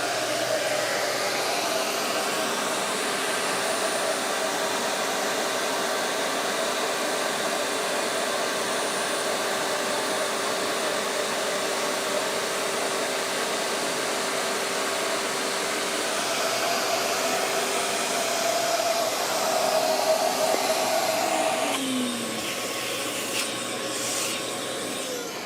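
A CNC router cuts an arched frame-and-panel door frame, taking a 0.03-inch offset pass: a loud, steady, continuous machine whine that holds for a long stretch, then shifts tone near the end.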